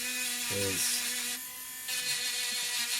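A small engraver tool scraping glue residue off a chromatic harmonica valve, giving a steady buzzing hum with a brief pitched whine and a short quieter pause midway, close up.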